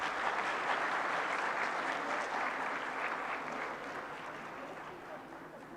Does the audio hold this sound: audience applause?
yes